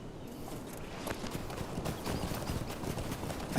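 A horse in the video game Lord of the Rings Online clip-clops steadily, the hooves striking in a quick, continuous rhythm at moderate volume, with no talking.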